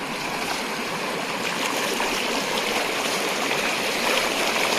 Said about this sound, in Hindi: यहाँ पे काफ़ी तेज पानी है।